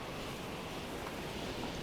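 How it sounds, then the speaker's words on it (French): In the video game Stormworks, rough sea waves and wind make a steady, faint broadband wash with no distinct breaks. "Donc là, la mer a beaucoup de vagues."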